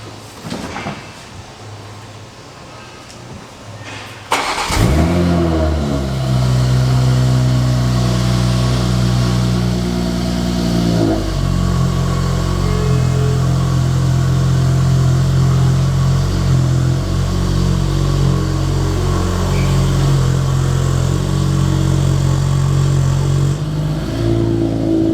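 A 2020 Toyota Supra fires up after a quiet stretch, then settles into a loud, steady engine drone with a brief rev partway through, staying close and continuous to the end.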